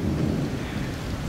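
Deep thunder rumbles continuously beneath a steady wash of heavy rain during a typhoon in the UAE.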